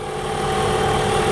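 A 2015 Ford Fusion Energi plug-in hybrid's four-cylinder engine idles after starting itself, giving a steady, even hum with a faint vibration, close by and without talk.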